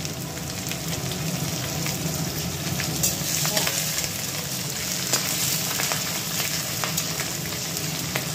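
Bay leaves, dried chillies, ginger and whole spices crackling in hot oil, a continuous close sizzle with scattered sharp pops and spits throughout.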